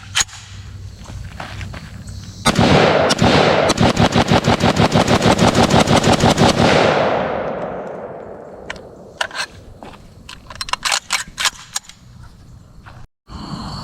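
Rapid string of loud, sharp gunshots from an SG-553 rifle, about twenty cracks in quick succession followed by a ringing decay, then scattered single shots and clatter at an outdoor range.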